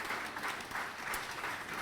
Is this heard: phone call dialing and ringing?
no